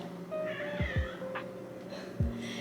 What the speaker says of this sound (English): My cat is meowing at me.